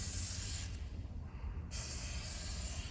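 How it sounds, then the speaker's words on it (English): Aerosol spray is shot into a worn 4x4 locking hub, a close steady hiss that cuts out briefly mid-way and resumes, over a low rumble. "let's spray some stuff in it"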